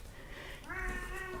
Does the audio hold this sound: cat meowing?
yes